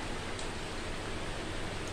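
Steady, dense rain pours down continuously after eight days of unbroken downpour, a uniform broadband wash of drops with no pauses, fairly close and even in level, with no voices.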